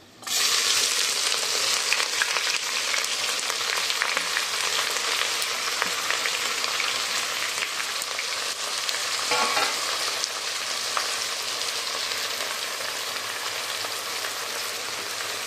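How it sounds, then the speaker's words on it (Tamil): Onions fry in hot oil in a pan for chicken biryani made with ration rice, giving a loud, continuous crackling sizzle like steady rain that carries on throughout, close up and without talk. "வெங்காயம் சீக்கிரம் வதங்க."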